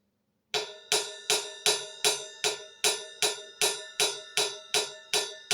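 A cymbal bell struck in a steady, even rhythm, about a dozen bright, ringing metallic pings, each decaying quickly before the next hit.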